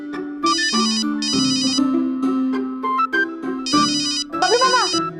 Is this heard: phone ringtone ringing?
yes